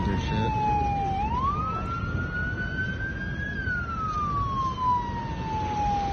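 A wailing emergency siren sweeps up and down in pitch, loud and steady, over traffic rumble with voices in the background.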